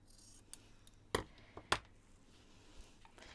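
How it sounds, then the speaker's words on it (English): Scissors snip through a strip of lace with two crisp cuts, plus a few small handling clicks and rustles at close range in a quiet room, with no talking. "Okay, so we've got a strip of lace. And I'll get a strip of this, so I'll cut that about there."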